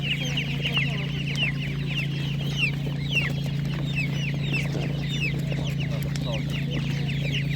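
Spanish hens cluck and chirp steadily at a poultry market, many birds close by with overlapping calls over a constant low mechanical hum.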